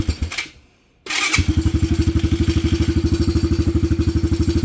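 A Venom Madix 125 motorcycle engine cranks, catches and settles into a fast, steady thumping idle, loud and close, after a brief silence.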